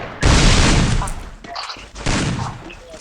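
Gunfire in the Free Fire mobile shooter game, bursts of loud rapid shots in two main volleys separated by a short lull, with game effects and people talking over it.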